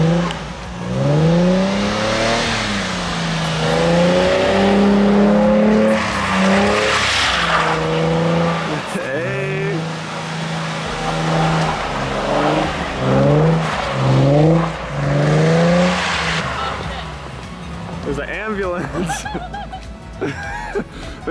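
A car engine revving hard to about 3,000 RPM: its pitch climbs and falls in repeated sweeping surges, loud and close, with tire noise and people talking and laughing over it.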